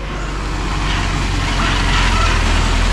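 Borewell drilling truck engine rumbles loud and steady while the vehicle reverses into position on a rough rural road, growing slightly stronger over the stretch.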